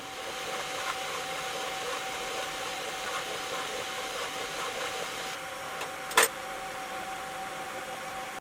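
Bambu Lab P1P and Creality K1 3D printers run through test prints together, giving a steady whirring motor and fan hum with faint mechanical ticks and one brief sharp clack near the end.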